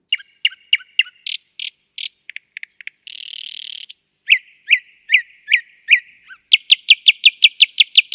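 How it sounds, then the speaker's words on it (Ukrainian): A nightingale sings alone and close, rapid varied phrases of sharp whistles, trills and repeated chirps in quick rhythmic bursts. "Чий спів ви щойно прослухали малята? Так, це соловейко."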